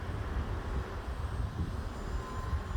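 UMX Turbo Timber RC model airplane flying on a very windy day, its small electric motor a steady low drone mixed with continuous wind rumble, no voices.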